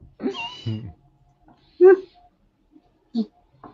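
A few short meows rise from a quiet room, spaced apart, with a person's voice briefly heard at the start.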